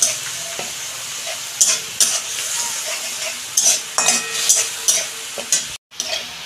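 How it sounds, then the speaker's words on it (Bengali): Onion and tomato paste sizzles in a pan on a low flame while a spatula stirs it in repeated scraping strokes, with light clinks against the pan and a brief dropout near the end. "এইটা দিয়ে আমি ভালো করে কষাবো, কাঁচা গন্ধটা যাতে চলে যায়"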